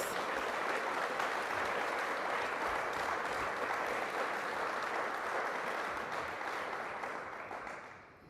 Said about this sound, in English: Can we give another round of applause to our speakers?